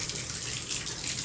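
Water runs steadily from a tap into a slow-draining sink, a close, continuous hissing splash with no pauses.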